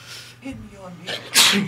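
A single sharp sneeze bursts out loud and close near the end, following a few seconds of people talking nearby.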